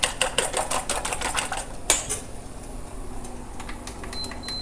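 Quick rhythmic clicking and tapping of a whisk or fork beating eggs in a bowl, fast at first, then slowing to sparse taps.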